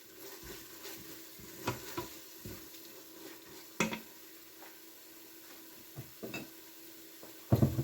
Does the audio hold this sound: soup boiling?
yes